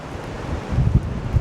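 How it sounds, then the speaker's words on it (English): Wind buffeting an outdoor microphone, a loud low rumbling roar with gusty surges that swell in the second half. "it's getting windy"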